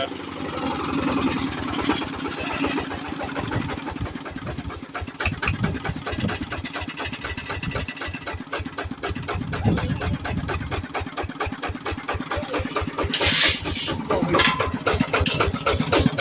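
A small RT110DI diesel engine idles steadily with a fast, even chugging rhythm, loud and close, with someone talking over it.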